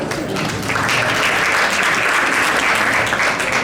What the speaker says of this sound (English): A round of applause for all of you for joining us as well